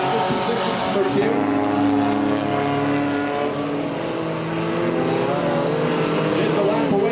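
Race cars roaring around Cottage Grove Speedway, a steady loud engine drone with shifting pitch as several cars pass in a pack, under a race announcer's continuous commentary.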